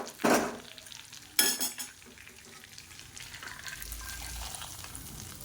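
Crisp fried ginger tempering in ghee poured into hot venpongal, with two sharp clattering sizzle bursts from the pan followed by a soft, steady crackle, no voices.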